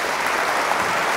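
Audience applause for a guest performer, a dense steady wash of many hands clapping at close range throughout, with no talk over it.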